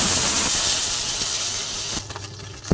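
Cauliflower hitting hot mustard oil in a pan gives a loud, steady sizzling hiss that runs for about two seconds, then drops away to quieter crackles and a sharp knock near the end.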